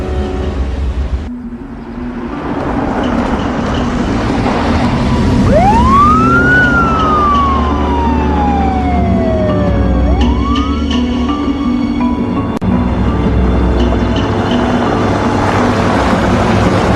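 Police sirens wail loudly over a steady rumble of traffic, with a rising and falling tone sweeping across the middle and other emergency vehicle noise continuing throughout.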